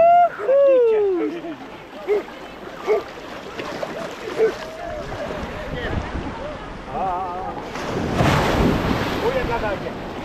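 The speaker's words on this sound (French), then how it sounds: "Oh, il y a de la vague." Sea waves surge and wash at a beach during a New Year's swim, with a rushing swell near the end, under wind buffeting and excited voices calling out close by.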